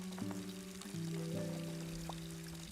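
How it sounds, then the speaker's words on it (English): Water streams and pours from small leaking pipes in the game Stories of Blossom, a faint, steady splashing wash under soft sustained musical tones. "Getting drenched by 4 small water leaks"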